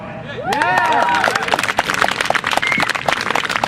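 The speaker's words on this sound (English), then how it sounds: "Another round of applause for Ben Powless, please." Audience applause at an outdoor environmental walk event, a burst of clapping and cheering from a crowd that starts after a second and continues briskly, mixed with voices and crowd noise.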